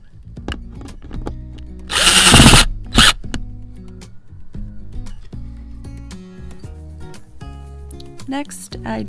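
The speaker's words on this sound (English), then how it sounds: "Then I'm just going to screw it down into the flap." A power drill drives a screw to fix a rope mount into a wooden platform flap in a Toyota RAV4, giving one loud burst of about half a second, then a second short one. Clicks and handling noises surround it, with no talk.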